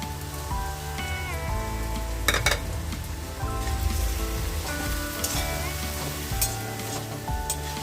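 Leafy greens with salt, sugar and turmeric stirred in a pan, a constant sizzle with occasional scraping strokes, while faint tonal music plays underneath.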